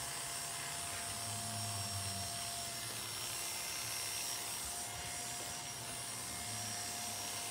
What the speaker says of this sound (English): clipper over comb.